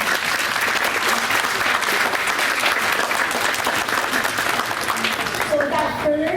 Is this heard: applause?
yes